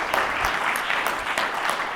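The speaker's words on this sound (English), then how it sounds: "one more round of applause for all the add-on developers that are here and not here" Audience applause at an awards event for add-on developers, a steady dense wash of many hands clapping at even loudness throughout, with no voices over it.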